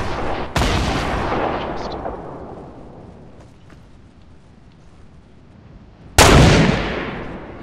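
Two loud, sharp gunshots from Fortnite, spaced several seconds apart, each followed by a long echoing decay that fades into a quiet background.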